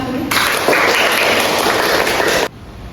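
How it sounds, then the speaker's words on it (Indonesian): Classroom applause in a school lesson, a short burst of dense clapping that starts abruptly, holds loud and steady for about two seconds, then cuts off sharply. "Tepuk tangan untuk kita."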